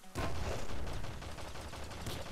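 Split pistol fire in the roguelike game Nuclear Throne, a dense, loud burst of overlapping shots that starts abruptly and holds as a continuous rattling blast with a sharper crack near the end.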